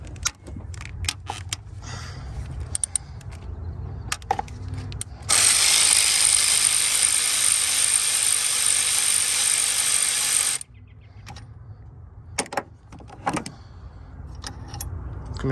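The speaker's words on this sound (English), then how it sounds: "They're all 12 millimeters. All right, we're gonna go ahead and break this one loose first." A ratchet works on 12 mm bolts of the high-pressure fuel pump on a Honda Accord, giving close mechanical clicks and rattles, with a loud steady whirring stretch in the middle before the scattered clicking resumes.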